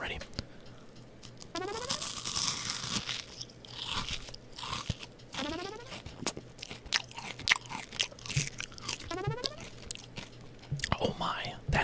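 Someone bites and chews a crunchy snack close to the microphone, with loud, repeated crunches and crackling bites. Whispered speech and faint clicking from a nearby fan sit underneath.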